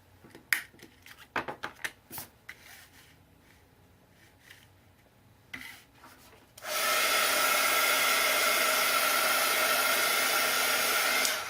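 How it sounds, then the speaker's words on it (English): A hair dryer drying a handmade Valentine's Day craft tag. Soft rustling and tapping comes first, then the dryer switches on with a loud, steady, close-up roar that holds unbroken to the end. "I'm going to be drying"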